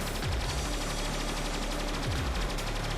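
Rapid, steady stream of laser weapon shots in the Stellar Interface video game, fired at an upgraded high rate, pulsing continuously over a low droning music bed.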